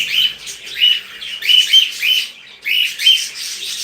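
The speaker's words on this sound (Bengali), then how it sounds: "আবার এখানে ছেলে পাখি ডাকতেছে এখানে কোকাটেল ছেলেটা ডাকাটা কি করতেছে" Loud, close bird calls repeat in short chirping bursts, a bright whistled cockatiel call with brief pauses between phrases.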